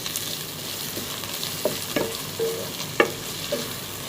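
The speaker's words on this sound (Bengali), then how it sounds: "একটু পাঁচফোড়ন দিয়ে দেব এখন আমি সাথে চিংড়ি মাছগুলো দিয়ে দিলাম" Shrimp with five-spice (panch phoron) fry in a pan, giving a constant hissing sizzle broken by a few sharp clinks of a utensil scraping and tapping the pan.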